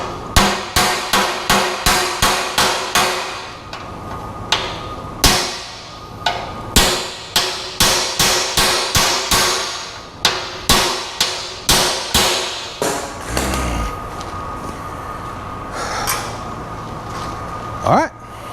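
A hammer strikes a punch to knock a stuck rivet out of a 1973 Ford F100 subframe, sounding as loud, sharp metallic blows in quick repeated bursts with short pauses between them.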